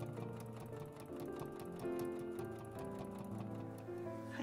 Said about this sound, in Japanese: ここのところを縫っていきましょう。